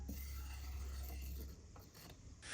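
The valve of an old fire extinguisher is forced loose, giving a quiet, close grinding and ratcheting rub that fades after the first half, then a few faint clicks.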